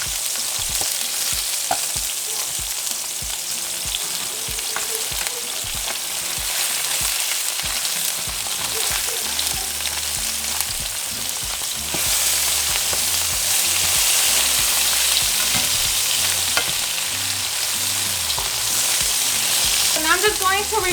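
Continuous crackling sizzle of chiles frying in hot oil, with occasional scraping and stirring sounds, steady and close throughout.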